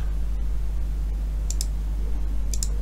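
Computer mouse clicks sound while working in Tekla Structure Designer, two pairs of crisp, faint clicks about a second apart over a steady low hum, with no voices.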